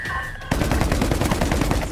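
Gunfire aimed at the Screamer in the video game World War Z Aftermath: rapid, loud automatic weapon bursts starting abruptly and continuing in a fast, steady rhythm of close shots.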